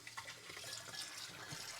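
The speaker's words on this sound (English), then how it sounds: "I'm going to rinse the dishes to get any excess food or crud off of that" Tap water runs steadily into a kitchen sink while dishes are rinsed by hand to clear off leftover food, a soft continuous splashing with faint clinks, quiet and close.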